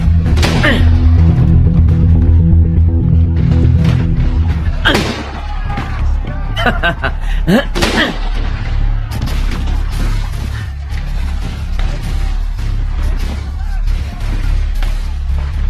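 Gunshots ring out in a Gujarati drama scene, several sharp loud bangs spaced across the stretch over music and a busy background, with people shouting and talking around them.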